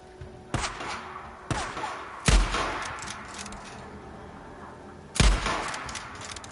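Gunfire in the video game Days Gone: four sharp, loud shots spaced a second or more apart, each with a clanging, echoing tail that fades before the next.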